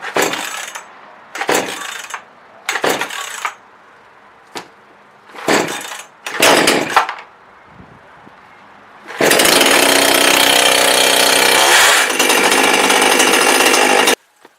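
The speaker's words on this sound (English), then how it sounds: "This is my little MTM chainsaw. It's my go-to saw at the moment." A cheap Chinese-made MTM chainsaw sputters in short bursts, then roars into a loud, steady run for several seconds before cutting off abruptly.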